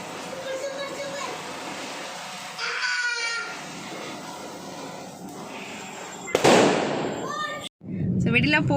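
Diwali firecrackers bursting, as dense continuous crackling and popping that swells and fades with one loud burst near the end, heard from nearby amid the background clamour of the celebration.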